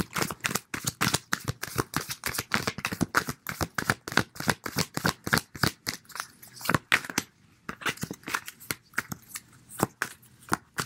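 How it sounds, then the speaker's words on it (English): Tarot cards are shuffled in a rapid, continuous run of crisp riffling flicks, close and fairly quiet, with a short pause near the middle before the shuffling resumes. "sorry for shuffling for so long."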